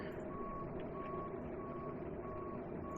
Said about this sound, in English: Pretty cool APU sounds.